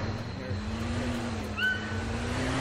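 A truck drives steadily in the video game DayZ, a low continuous engine drone running throughout with brief higher tones over it.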